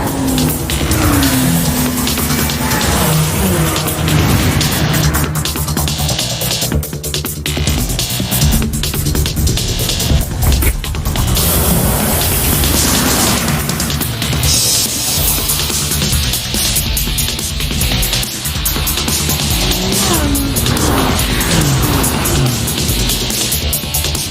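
Race cars climbing the steep slopes of a hill-climb course at full throttle, a dense, loud roar of revving engines with shifting pitch and occasional tire squeal, blended with a driving music track.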